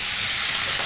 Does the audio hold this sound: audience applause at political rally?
no